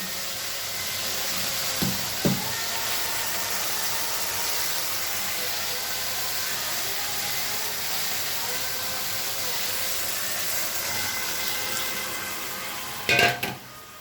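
Malabar spinach being stirred and fried with pumpkin and shrimp in a pan, a steady soft sizzle with occasional scrapes of a spoon against the pot, no talking.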